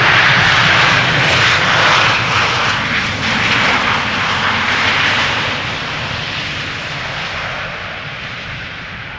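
An airplane at Schiphol Airport roars steadily and loudly with broadband engine noise, close at first and slowly fading as it passes, with no voices.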